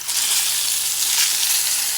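The fat side of a London broil steak sizzles loudly and steadily as it pan-sears, a close, dense hiss with no talking.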